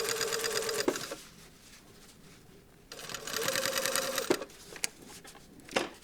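Sewing machine stitching across the opening of a lapped zipper pocket, with back tacking; two bursts of steady whirring, each ending with a short clack, separated by a pause.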